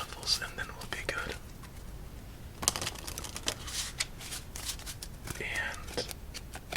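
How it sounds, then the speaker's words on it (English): A deck of playing cards gets shuffled for a quiet game of Solitaire, with soft riffling and clattering bursts close to the microphone, mixed with faint whispering. "I think 2 more shuffles and then we'll be good."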